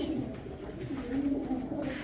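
Pigeons at a live bird auction in Antalya, Turkey, coo softly and continuously, low throaty murmuring close by with no talking.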